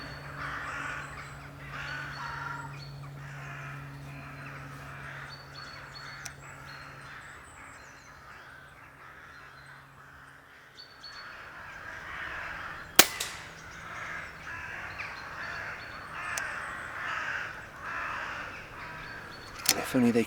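Crows flying in to roost at dusk, scattered caws over a quiet background, with a couple of sharp cracks and a voice speaking at times.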